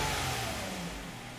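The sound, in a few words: Toyota Avalon engine running with a misfire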